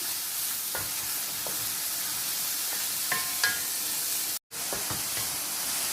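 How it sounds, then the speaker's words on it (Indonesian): Mushrooms sizzle and fry in a pan while being stirred, with a steady close hiss and a few scraping clicks of the spatula. "Kita gaul dan biarkan dalam masa"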